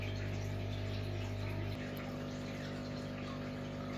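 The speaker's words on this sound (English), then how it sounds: "Now the sump's been running a bit." An aquarium sump pump runs with a steady low hum and constant water gurgle, close and unbroken throughout.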